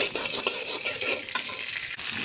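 Onions hit frying panch phoron five-spice in a pan, giving a bright steady sizzle with stirring scrapes close by, no talking.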